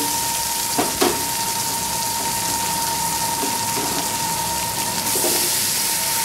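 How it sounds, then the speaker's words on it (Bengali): Sliced vegetables such as pumpkin, ridge gourd and eggplant frying in a pan, a steady loud sizzle throughout with a couple of brief stirring knocks and no talking. "সমস্ত সবজিগুলো আমি ভেজে নেব"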